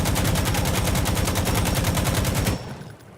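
Sustained burst of automatic fire from an AKM rifle fitted with a foregrip and compensator in Insurgency: Sandstorm, rapid, evenly spaced loud shots for about two and a half seconds, then a fading echo tail.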